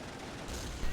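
Machine gun fire in a WWII shooter, a brief, loud, dense burst of rapid shots with a heavy thump at the end.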